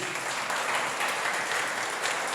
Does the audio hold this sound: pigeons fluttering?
no